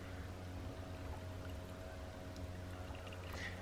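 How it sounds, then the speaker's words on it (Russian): Rinse water is poured from a clay teapot into a tea pitcher while brewing Shu pu-erh, a soft, steady trickle heard close and faint throughout. "Опять же сливаю водичку в чихай."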